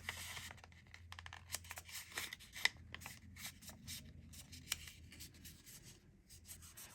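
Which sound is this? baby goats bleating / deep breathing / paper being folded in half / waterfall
paper being folded in half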